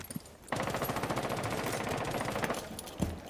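Rapid automatic gunfire in a Rainbow Six Siege esports match, a sustained burst of closely spaced shots lasting nearly three seconds, loud and near, with a final single crack near the end.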